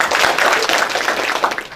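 An audience claps at a public lecture at Chuka University, a brief, dense burst of applause with a voice faintly mixed in.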